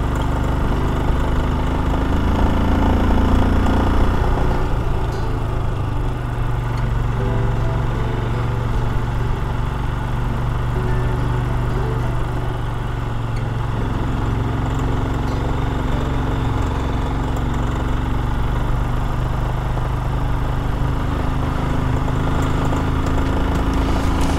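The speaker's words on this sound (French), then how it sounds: "J'ai un truc qui claque là dans le moteur, je sais pas ce que c'est." An engine with something clacking inside runs steadily and loudly at close range, a continuous mechanical drone with no one speaking.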